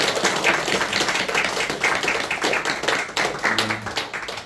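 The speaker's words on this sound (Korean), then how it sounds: "한번 박수를 크게 한번 이렇게 쳐주세요" A church congregation at a Sunday service claps loudly and together, a dense, steady patter of hands filling the room for several seconds, with a brief low hum near the end.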